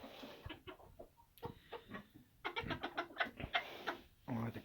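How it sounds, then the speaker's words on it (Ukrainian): Roosters calling hens make repeated short clucking calls in bursts, close by, with soft rustling and scattered chicken sounds between them. "Півники дуже господарські, бачите, підкликають курочок, самі не їдять."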